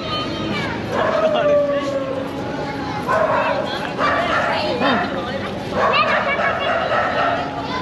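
A dog barks and yelps by the Ganges in Varanasi, India, in short bursts within a busy outdoor scene, with people talking nearby throughout.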